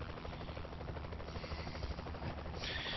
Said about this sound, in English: Might as well just come in the chopper with me.